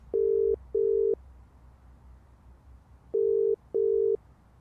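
Ringback tone of an outgoing phone call on speakerphone: four steady beeps in two pairs, a pause between the pairs, heard alone over a faint background hum.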